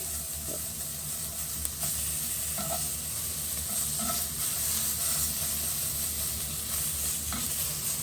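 Tuna fries in a pan with a continuous, close sizzle and hiss, plus a few faint clicks and shifts from the pan, with no talking.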